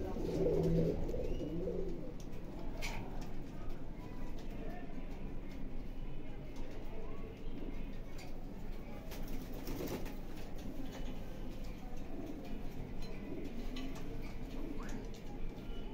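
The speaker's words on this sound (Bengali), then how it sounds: "আমার লফটের একজোড়া বেস্ট কোয়ালিটির ব্ল্যাক রেসিং হোমা কবুতর" Black racing homer pigeons cooing inside a loft: repeated soft, throaty coos over a constant background hum, with occasional light ticking sounds.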